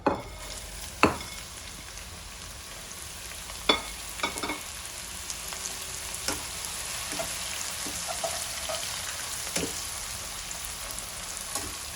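A second batch of bitter gourd fries in oil for a bitter gourd and gongura chutney, with a continuous sizzle broken by occasional sharp stirring scrapes and taps nearby and no voices.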